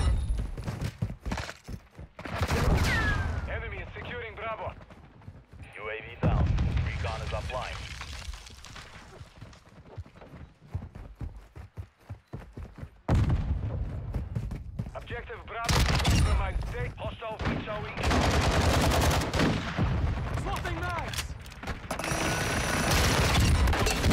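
Pistol and other gunfire in Warzone 2 crack out in scattered bursts and volleys across the match, some loud and close, with players talking over much of the action.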